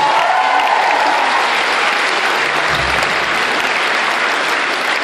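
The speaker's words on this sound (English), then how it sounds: "Give yourself a round of applause for being so nice." An audience at an acoustic concert breaks into loud, dense applause with a few cheers mixed in, holding steady throughout.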